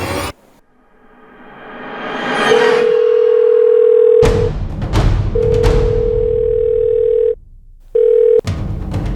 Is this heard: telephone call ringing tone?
yes